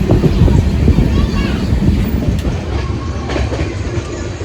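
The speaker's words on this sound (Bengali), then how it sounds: "আমাদের ট্রেন এখন ঢুকছে রামপুরহাট।" A train pulls into Rampurhat station with loud, close rumbling and rattling carriages, voices mixed in beneath the rolling noise.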